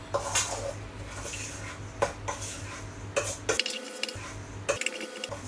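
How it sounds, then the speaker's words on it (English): Melted butter being mixed into crushed digestive biscuits in a bowl for a cheesecake base, with a spoon scraping and clinking against the bowl in repeated close strokes over a steady low hum. "Pour the butter into the well in the middle of the digestives. Then you're just going to mix it all together."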